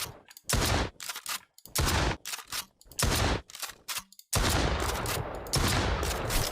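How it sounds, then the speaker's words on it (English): A video game shotgun fires repeatedly, about half a dozen loud, close blasts in an uneven rhythm separated by short gaps, ending in a denser burst of fire, with no voices. "So we got our shotgun, we shoot, I reload"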